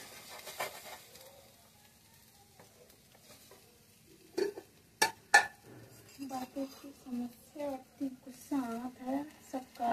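A utensil stirs potatoes in a little oil in a pan, giving sparse clinks and scrapes, followed by close speech that runs over the cooking sounds.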